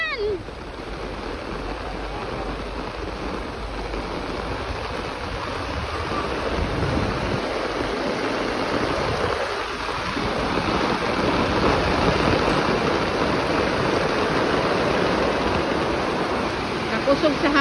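A strong storm with driving rain and gusting wind, a dense, steady roar that fills the whole clip and swells slightly louder toward the end.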